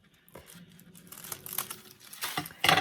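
Scissors slicing a small strip from a fold of crepe paper, a soft dry crinkling and rustle that builds over a few seconds to a sharper crisp snip at the end, close and quiet.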